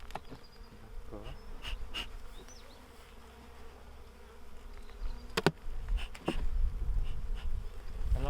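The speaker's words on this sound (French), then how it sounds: "C'est un essaim. Un essaim de l'an dernier." Honeybee swarm from the previous year buzzing steadily at an open beehive at a school apiary, a continuous close drone with individual bees passing near, plus a few sharp knocks, with no talking.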